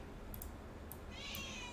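A house cat gives a few faint, short meows in a quiet indoor room, with a higher, brighter call near the end.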